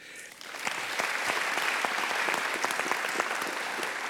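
An audience claps for panelists and commissioners at a New School talk, a steady, dense round of applause rising quickly and holding at an even level for several seconds, heard from within the room.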